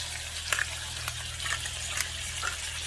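A T-bone steak sears on its back side with a steady, low sizzle, joined by a few brief sharp crackles and spits, close by, with no talking.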